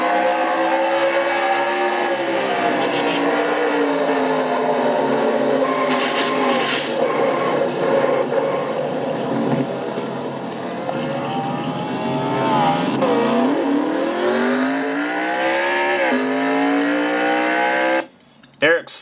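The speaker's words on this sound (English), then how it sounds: "stalled the car, as you heard, and finally got it going again." From a roof-mounted camera on a Castrol GTX Cup Series race car at the Crown Royal 400, the engine drones loudly and steadily, pitch sliding up and down through shifts, then drops out briefly near the end before firing again.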